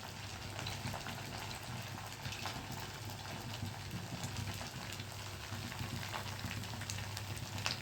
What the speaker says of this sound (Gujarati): હવે આ તળાય છે.